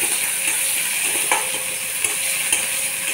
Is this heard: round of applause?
no